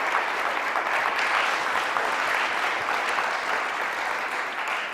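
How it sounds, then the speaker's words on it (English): Steady, dense applause from a lecture-hall audience at the close of a university talk, loud and continuous for several seconds and tapering slightly at the end, with no talk over it. "Let's give Darryl a round of applause"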